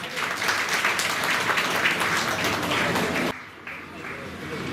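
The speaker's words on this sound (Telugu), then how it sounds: "దయచేసి గట్టిగా చప్పట్లు కొట్టాలి" An audience applauds a school topper at a felicitation event, a burst of dense clapping that runs for about three seconds, then stops abruptly before lighter scattered claps resume.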